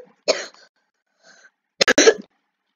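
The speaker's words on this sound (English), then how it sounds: "Huge cough." A person lets out a huge cough, one rough burst followed a moment later by a louder, harsher double hack, both close and loud against near silence.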